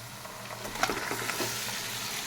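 Marinated meat tipped into a pan of well-fried onions, giving a steady close sizzle and frying hiss with a few stirring scrapes and clinks throughout.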